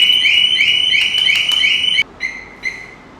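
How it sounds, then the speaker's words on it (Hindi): A loud electronic anti-theft alarm on a Harley-Davidson motorcycle warbles in rapid repeating chirps for two seconds, then gives two short beeps before stopping. "तो ये जो अलार्म आपने सुना गया, ये अलार्म इसका एक एंटी थेफ्ट फीचर है"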